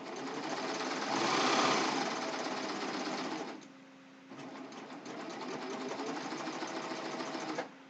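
A serger sewing machine runs steadily while stitching the ruffle seams of a pillowcase, with a fast whirring hum close by, a brief slowdown midway, then steady running again until it stops.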